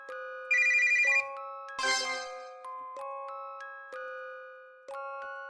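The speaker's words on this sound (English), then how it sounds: "Jade took out her phone and sent someone a video call invitation." A phone's video-call ringtone from a video game chimes in a repeating electronic melody of bright tones with a short buzzy burst, cycling steadily and fairly quietly with no voices.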